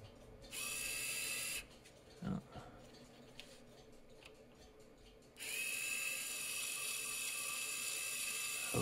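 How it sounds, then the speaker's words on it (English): A small electric motor from a tube-type underwater television camera whirs in short bursts, with quieter clicking and handling noises between the runs. "Now that motor is back in, so I could try to run it."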